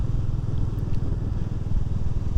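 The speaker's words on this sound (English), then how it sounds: "I didn't chat on the video, in any of the videos when I was riding the bike along" A motorcycle engine runs steadily while the bike is ridden, a loud, continuous low rumble with a fast pulsing throb and wind noise, heard close and without talking.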